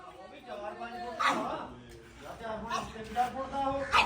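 A dog barks and whimpers in short, yelping bursts close by, while people talk and coax it to come over.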